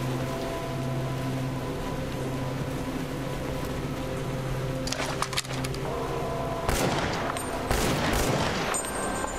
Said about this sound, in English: Take care of this Jagov up here with his machine gun from hell